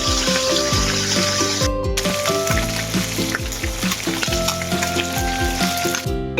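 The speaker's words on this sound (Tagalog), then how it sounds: "Yan, ipiprito mo natin bago natin siya isasyado." Dalagang bukid fish frying in hot oil, giving a loud continuous sizzle and crackle up close, overlaid by clattering, ringing metallic kitchen sounds throughout.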